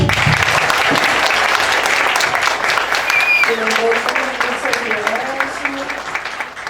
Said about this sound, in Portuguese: eu quero pedir para vocês aplausos para a Jéssica